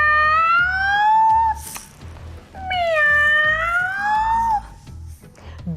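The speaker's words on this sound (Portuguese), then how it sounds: "Dois gatos" Two loud, drawn-out cat meows, one after another with a short pause between them, close and clear over a low rhythmic background, used as a sound effect in a children's story.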